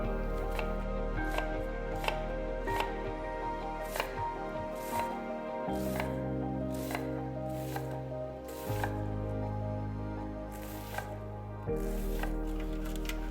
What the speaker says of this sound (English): We're going to dice a Vidalia onion.